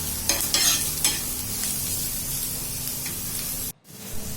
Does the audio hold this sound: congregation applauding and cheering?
no